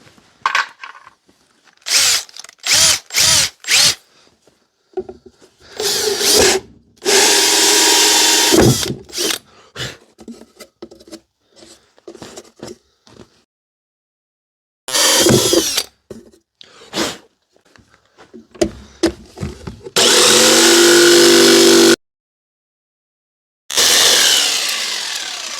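A power drill bores a hole through a guitar body in repeated bursts, some short and some sustained, separated by silent gaps, loud and close with no talk.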